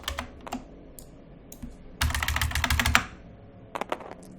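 Dice rolling in Tabletop Simulator during a Mansions of Madness (2nd Edition) game: several rapid bursts of clattering clicks, one longer rattling run in the middle, heard clearly with no talk.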